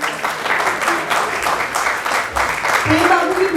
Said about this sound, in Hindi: जोरदार तालियां हो गई